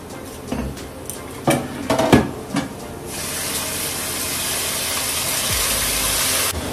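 Ginger garlic paste goes into onions frying in a home kitchen pan: a few metallic clinks and scrapes of a spoon on the pan, then a steady broad sizzling hiss that holds for several seconds, with no one talking.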